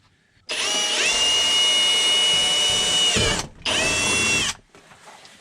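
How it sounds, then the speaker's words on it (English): A handheld power drill bores a hole for a mirror bracket on a Kubota BX tractor cab, whining loudly and steadily for about three seconds, pausing briefly, then running again for another second before stopping. "put a hole through it with the drill bit"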